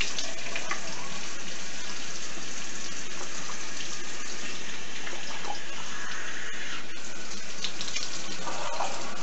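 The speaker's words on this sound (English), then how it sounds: "All right, cold water rinse." Water runs steadily from a tap for a cold rinse, a continuous splashing rush with small shifts in flow, lasting throughout.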